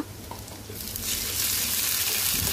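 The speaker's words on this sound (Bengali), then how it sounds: "দিয়ে একটু ভেজে নিব যাতে আদা রসুনের গন্ধটা না থাকে" Ginger, garlic and cumin paste hits hot oil with fried onions in a pan, starting as a low hiss and swelling after a second into a louder, steady, close sizzle, with no voices.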